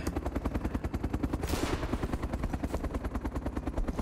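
Automatic gunfire in the survival game DayZ, an Arma 2 mod, rattles in rapid, steady bursts throughout, loud and close, with one heavier blast swelling up about midway.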